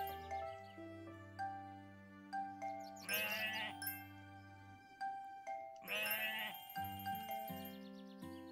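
Two drawn-out sheep bleats from the Harvest Island video game rise over a soft, tinkling melodic game tune, each lasting about a second and sounding clear and close.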